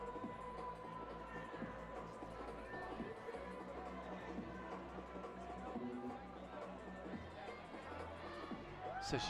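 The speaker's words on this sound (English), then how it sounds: "Plenty of shouts coming from the crowd." Spectators at a World Cup bouldering final in Vail shout and cheer in the distance, a steady murmur of crowd noise with scattered calls, under a nearby commentator's speech.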